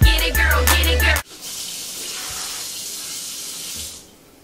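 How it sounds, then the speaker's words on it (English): Running tap water rinsing out a pitcher, a steady hiss of water with a few soft knocks, preceded by a brief burst of louder, music-like sound. "So I'm going to rinse that pitcher out."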